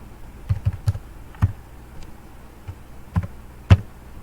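Keys on a computer keyboard are tapped in a sparse, irregular sequence of close, crisp clicks as a one-time passcode is typed in, with pauses between strokes.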